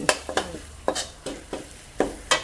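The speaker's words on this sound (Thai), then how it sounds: "ใช้ไฟอ่อนๆในการผัดจะผัดพริกแกงให้หอมฉุยให้เหลืองให้ได้ที่" Curry paste for an herb-laden catfish stir-fry is stirred in a pan over low heat. A spatula scrapes in quick, rhythmic strokes, about seven close, bright swishes over a soft, steady sizzle, with no voices.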